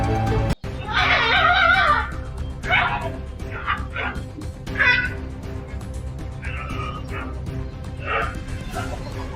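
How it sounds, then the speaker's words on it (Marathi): Stray dogs roaming a park area in Navapur town bark and yip in repeated bursts, fairly close and loud, with a brief whine among them over steady background noise. "मोकाट कुत्र्यांनी धुमाकूळ घातलाय"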